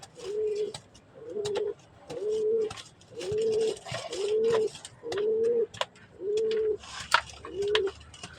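A pigeon coos nearby in a steady series of low, throaty calls, about seven rounded phrases spaced evenly, with faint background rustle and no speech.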